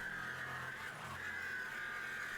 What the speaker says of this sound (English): It's a Sawzall. I have a plastic cutting attachment here, and I'm just cutting this right out.